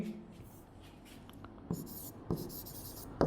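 Marker or chalk strokes on a board during a Class 9 coordinate geometry lesson: faint scratchy writing with a few sharper taps near the end, close and fairly quiet, no speech over it.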